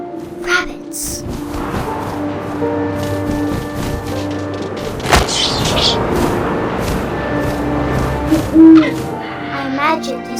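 An owl hoots in the video game What Remains of Edith Finch, a soft low call near the end, under a narrating voice and ambient game sounds.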